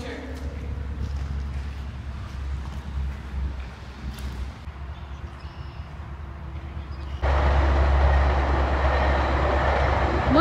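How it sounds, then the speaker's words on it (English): A train passing outdoors, heard as a rhythmic clatter of wheels and cars under people talking, then swelling into a loud, close, broad rushing roar near the end. "Look at the train!"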